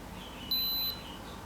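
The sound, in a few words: power bank low-voltage cutoff beeping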